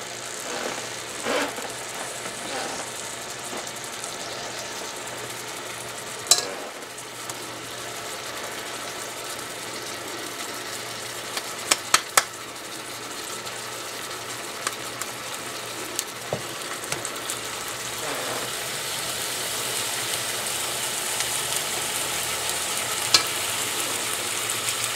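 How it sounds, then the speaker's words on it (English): Turkey breakfast sausage patties sizzle in a hot pan, a soft continuous frying hiss broken by scattered pops and occasional clinks. "Sizzle right away."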